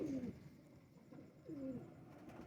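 A Teddy Rampuri pigeon gives two soft, close coos about a second apart, each a low rolling call against a quiet background.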